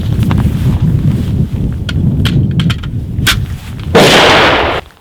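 Rifle fire with Black Hills 77 grain OTM factory-seconds ammunition at an outdoor range, loud sharp shots over heavy wind rumble, with one big blast near the end.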